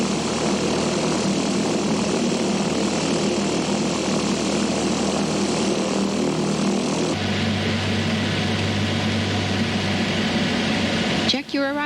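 Light propeller airplane approaching Modesto Airport, a loud continuous engine and propeller drone that changes tone partway through, heard throughout under a voice speaking.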